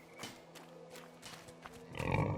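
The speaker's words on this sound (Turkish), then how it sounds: "Yok lan domuzlar falan var burada." Pigs in the video game A Plague Tale: Innocence give low, rough grunts close by, irregular and soft at first, then grow louder and thicker toward the end over faint background ambience.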